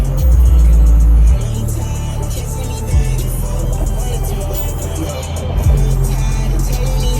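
BMW E93 M3 convertible driving at sunset, a steady low engine drone with strong road and wind rush, shifting pitch a few times as it changes gear, with a voice talking over it.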